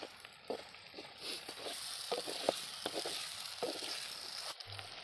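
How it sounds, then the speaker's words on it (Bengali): Pork pieces frying in a pan until lightly charred give a continuous sizzle, broken by scattered clicks and scrapes of stirring. "আমি ফ্রাই করতে থাকি।"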